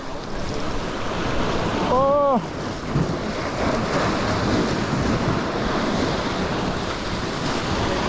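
Sea waves wash steadily along a coast during rockfish fishing, a constant loud rush of surf and wind with a brief tonal call in the middle and no clear talk.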